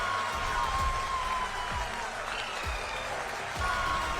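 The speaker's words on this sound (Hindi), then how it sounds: "लोग भावुक हो उठे, आंसू रुके नहीं, तालियां बजने लगी" Applause and cheering from a crowd at the ISRO Telemetry Tracking and Command Network in Bengaluru, a dense, steady patter of many hands clapping throughout, heard at moderate distance.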